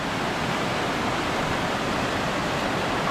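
Flooded river in the Konkan monsoon rushing beneath a bridge, a loud, steady broadband roar of churning water filling the whole stretch without pause or voices.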